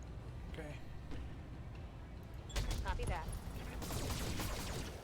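A UAC 20 autocannon fires in the Battletech video game, heard as rapid, heavy bursts of cannon fire that join the ongoing battle noise halfway through.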